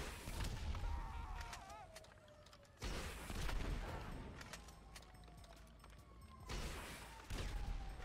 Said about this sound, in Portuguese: Vamos atirar uns mísseis aqui.